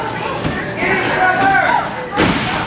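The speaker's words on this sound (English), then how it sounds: "Quiksilver blocks and slams him down." A pro wrestler is slammed down onto the ring mat during an independent match, a loud thud landing amid steady commentary and crowd noise, with a second heavy impact near the end.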